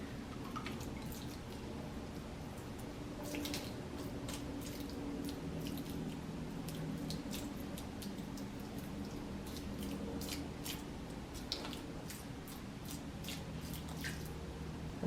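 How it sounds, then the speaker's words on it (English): Water trickling and dripping onto freshly planted seeds in soil, a soft, faint run of scattered drips and small splashes going on steadily with no talk. "And then I will give them a good amount of water."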